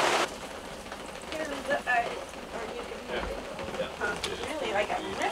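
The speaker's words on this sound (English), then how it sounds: "now we're getting downpoured on again this trip" Heavy rain pours steadily onto a truck tent at a campsite, a dense continuous patter with occasional louder drips and faint voices in the background.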